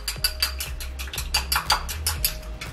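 A spoon stirs a cornstarch face mask paste in a bowl, with rapid, rhythmic clinks and scrapes against the sides repeating steadily at close range, and no voices.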